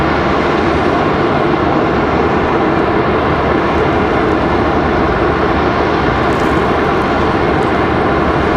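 A Southwest Airlines jet arriving from Denver roars loudly and continuously as it comes in at Raleigh-Durham International, a dense, unbroken engine rumble with no speech.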